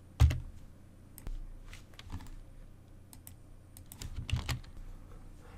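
A few scattered computer keyboard key presses while choosing an option to boot Windows 10 into safe mode, quiet sharp clicks at irregular intervals with soft room noise between.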